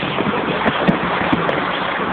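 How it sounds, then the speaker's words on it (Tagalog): Very heavy rain pours down in a steady, dense roar, close and loud, with faint scattered drips and splashes on top and no clear speech. "Sobrang lakas ng ulan."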